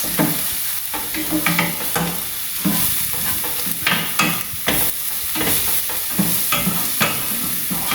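Seasonings sizzling in a thin layer of oil in a pot as a Jamaican ackee and saltfish breakfast is cooked, a steady close hiss with scraping stirs and small pops throughout.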